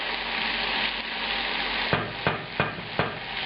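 Pork and peppers fry in a pan, a steady close sizzle broken near the end by four knocks of stirring against the pan, no talking.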